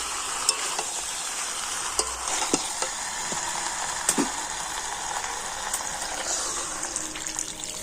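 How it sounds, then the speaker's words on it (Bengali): Chicken sautéing in a pan hisses with a steady, dense sizzle, punctuated by occasional sharp spoon scrapes and clinks as it is stirred, close and continuous throughout. "এবারে সমস্ত কিছু কিন্তু আর অল্প করে একটু কষিয়ে নেব।"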